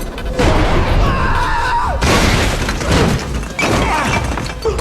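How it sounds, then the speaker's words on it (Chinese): A high-explosive bomb blast in a Spider-Man film action scene, heard as a loud, dense, sustained roar of crashing debris and rumble, with a second heavy impact partway through. "他便立刻扔出了一枚高爆炸弹，剧烈的爆炸瞬间便撕碎了彼得的面罩。"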